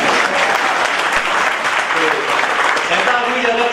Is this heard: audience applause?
yes